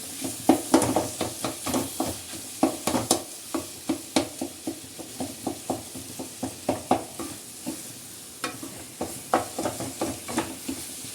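Paneer stirred into sizzling fried masala in a pan, a steady hiss broken by rhythmic scraping stirring strokes, close up with no talking.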